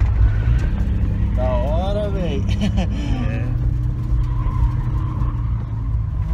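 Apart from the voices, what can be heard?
Toyota Supra car driving and drifting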